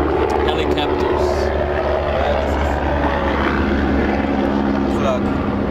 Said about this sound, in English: As you can hear. Helicopters.